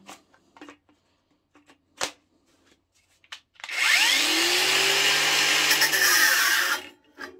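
A Parkside Performance PWSAP 20 Li-C3 cordless angle grinder with a fully drained battery gives a few faint clicks and knocks, then spins up into a loud whine for about three seconds before winding down and stopping.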